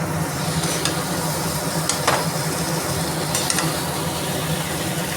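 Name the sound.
stirring chow mein with black pepper in a pan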